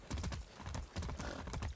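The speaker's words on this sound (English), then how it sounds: "This horse is moving though." Horse hooves clip-clop in Far Cry 6 in a quick, steady rhythm of repeated thuds, loud and close, with game noise underneath.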